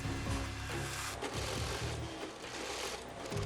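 Sewing machines stitch military jackets at a factory sewing station, giving a dense, loud mechanical hum with rapid stitching and short pauses. Other workshop noise blends in, and no one speaks.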